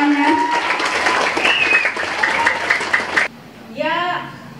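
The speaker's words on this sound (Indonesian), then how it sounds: "Ya, tepuk tangannya." Audience at an Indonesian charity event applauding, with loud, dense clapping that stops abruptly after about three seconds and is followed by a voice speaking.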